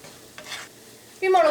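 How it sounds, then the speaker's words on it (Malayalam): Shrimp and chilli powder are stirred in hot oil, with a soft scrape early on and a louder, close burst of sizzling and stirring toward the end. "ഇതെല്ലാം കൂടിയിട്ട് നന്നായിട്ടൊന്ന് മിക്സ് ചെയ്യാം."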